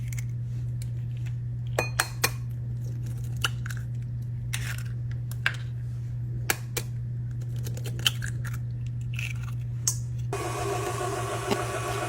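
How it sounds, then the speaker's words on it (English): Three room-temperature eggs are cracked against a bowl and emptied in, sharp taps and cracks scattered over a steady low hum, with brief shell clicks and a shift in background near the end. "Now we're going to crack 3 room temperature eggs"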